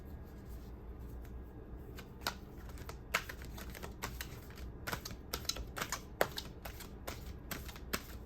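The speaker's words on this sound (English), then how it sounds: "Let's pull an archetype card." Tarot cards are shuffled and pulled by hand at a reading, making quick, light, close clicks and flicks in an irregular patter over a quiet room.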